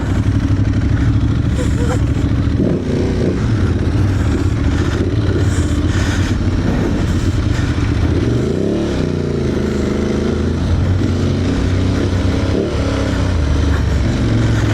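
An Aprilia Tuareg Rally motorcycle, fully fueled and heavier than stock, rides offroad. Its engine drones loudly and continuously nearby, with the pitch rising and falling as the throttle opens and eases over rough ground.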